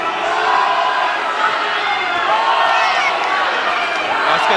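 A boxing crowd at the Ultra Tune Cup roars and chants a fighter's name in a dense, steady wall of voices that fills the whole stretch without pause.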